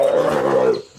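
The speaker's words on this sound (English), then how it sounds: "jaguar," A jaguar gives a single close, deep, rasping roar lasting under a second and then fading out.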